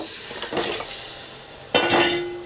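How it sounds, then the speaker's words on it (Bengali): Meat pieces tipped into a pan of cooked-down spice masala, with a sharp clatter of metal on metal near the end and a rising fry, close and fairly loud after a quieter stretch of pan scraping. "আমি এবার এই মাংসগুলো ঢেলে দেব।"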